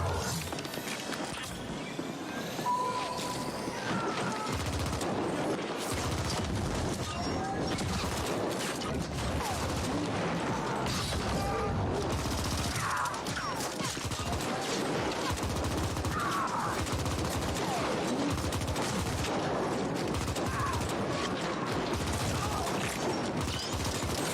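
Video game weapon firing: dense, continuous rapid bursts of gunfire with clattering mechanical and hoof-like sounds mixed in, loud and sustained throughout with no talk.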